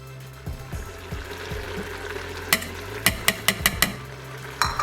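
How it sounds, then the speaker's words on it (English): A spoon stirs flour into beef bourguignon simmering in a pot, giving soft scraping and gentle sizzle, then a run of five or six sharp metallic taps against the pot rim near the end. "We're gonna give that a mix."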